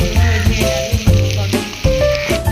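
Small onions frying in a pan, a loud, close sizzle with occasional stirring scrapes and bumps breaking through the steady crackle.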